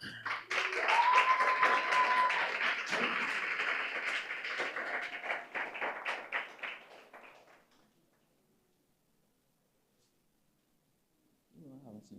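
An audience at a scholarship award ceremony claps together in sustained applause for about seven seconds, then it thins out into silence before a faint sound returns at the very end.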